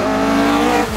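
A Ford Fiesta rally car at a historic rally roars past close by, a loud sustained engine note that drops in pitch as it passes, with a brief tire squeal.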